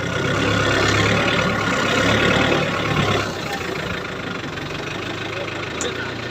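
A tractor engine idles steadily nearby with a low rumbling, knocking drone, loud throughout and easing slightly partway through.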